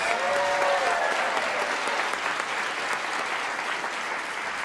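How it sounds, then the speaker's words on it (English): An audience at a 2023 State of the District community event in a large room claps in steady, sustained applause from many hands that fills the whole clip. "Let's give her a big round of applause."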